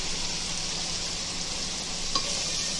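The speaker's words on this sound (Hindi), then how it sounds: "इसको 30 सेकेंड्स तक अच्छे से भून लेंगे" Dry spices and salt fry in a pan for a chicken dish, a steady close sizzle running continuously with no talk.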